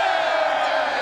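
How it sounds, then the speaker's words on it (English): A large crowd cheers and whoops in a dense, steady roar, loud and close for a brief moment with no pause. "Why is everyone cheering?"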